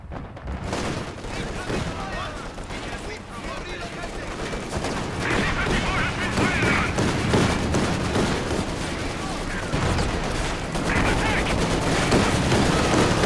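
Sustained battle gunfire from the WWII strategy game Company of Heroes 2, dense volleys of rifle and machine-gun fire crackling continuously at a steady loud level, with game voice lines and speech mixed in throughout.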